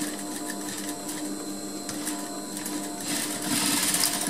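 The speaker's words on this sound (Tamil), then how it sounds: "இப்போ இந்த இடத்துல ஒரு தையல் வேணால் போட்டுக்கோங்க" A sewing machine stitches a zipper fly on a garment at a tailoring class, a steady mechanical whirr running continuously and growing slightly louder toward the end, with no talk.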